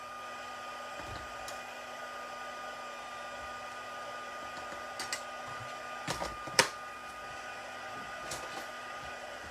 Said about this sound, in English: Let me go ahead and start my heat tool while I'm doing that.